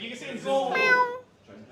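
A single cat meows once, a drawn-out, rising-and-falling cry close by, with a soft voice at the start.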